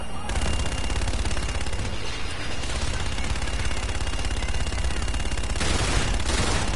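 Sustained rapid gunfire roars through a Call of Duty: Infinite Warfare campaign battle, loud continuous automatic bursts layered with booming impacts, dense and unbroken throughout.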